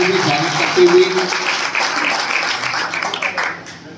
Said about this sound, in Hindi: जोरदार तालियों से स्वागत करते हुए